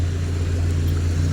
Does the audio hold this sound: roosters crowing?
no